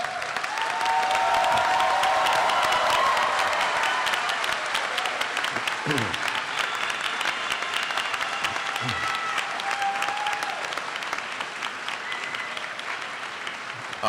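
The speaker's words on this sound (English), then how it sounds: "turn around and face your family, and give them a round of applause" At a medical college graduation ceremony in 2014, graduates give their families a long round of applause: a large crowd clapping steadily in a big hall, slowly thinning toward the end, with scattered voices and light cheers underneath.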